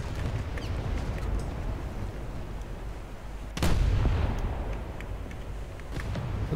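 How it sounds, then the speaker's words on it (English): Four or five cruisers firing naval guns in War Thunder, a constant rumble of distant gunfire with scattered sharp reports and one heavy nearby blast midway. "Did I mention there's like four or five cruisers in this sort of general vicinity? And they're all shooting at me."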